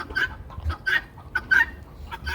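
A hen clucks in short, close bursts, four or five soft calls spaced roughly half a second apart, with quiet gaps between them.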